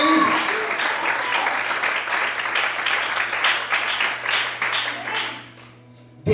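Church congregation applauding the Lord during an evangelical service, dense sustained clapping with cheering and a low organ or keyboard drone beneath, fading out near the end before a sudden final burst.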